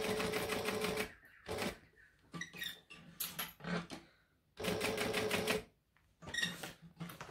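A home sewing machine runs in bursts of rapid mechanical stitching, stopping and starting repeatedly with short pauses between runs, close and fairly loud with no talking.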